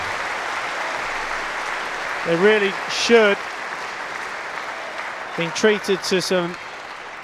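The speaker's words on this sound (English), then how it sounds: "The crowd roaring." Crowd noise from spectators at a squash semi-final of the 2014 British Open, a steady broadband roar under a commentator's talk that runs throughout.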